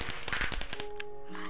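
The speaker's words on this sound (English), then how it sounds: "your first sight of fireworks" Fireworks go off in Minecraft: a quick run of sharp crackling pops and bangs in the first second, then a brief high burst and a fading tonal ring.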